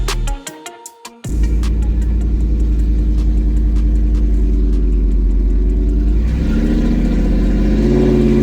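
A Ford SVT Lightning pickup with a custom exhaust starts with a few sharp clicks, then fires up into a loud, deep rumbling idle. The engine swells into a stronger rev near the end.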